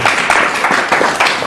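A live audience at a comedy show gives a brief burst of dense, loud applause lasting only a moment.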